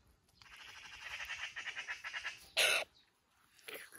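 Repeated harsh chattering magpie calls in quick succession, fairly close, followed by a louder burst and a brief later call.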